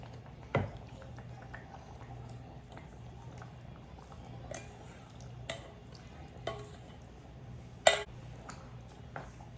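Peeled shrimp stirred into a pot of stewed codfish and eggplant, quiet scraping and soft clinks of a utensil against the pot, with a few sharper knocks spread across a low, steady background.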